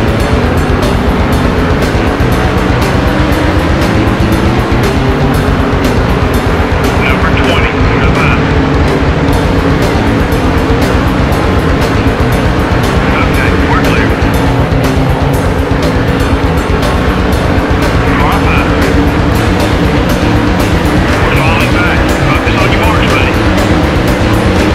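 A pack of stock cars races at Michigan in NASCAR Thunder 2003, engines roaring loud and steady with no letup, under commentary.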